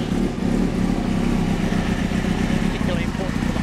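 A Honda carbon motorcycle's exhaust revving after warm-up, a loud, steady close engine drone running continuously with a slight rise near the end.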